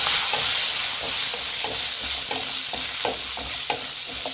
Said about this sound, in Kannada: ಸಾಂಬಾರು ಈರುಳ್ಳಿ ಹಾಕೊತಾ ಇದ್ದೀನಿ ಫ್ರೈ ಮಾಡಿ